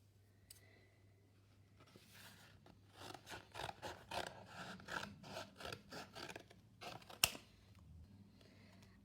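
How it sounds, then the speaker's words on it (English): Scissors cut a rectangle from thin cereal-box cardboard for a craft project, a quiet series of close, rhythmic snipping and crunching strokes with a sharper click near the end. "you cut a rectangle out of the cereal box"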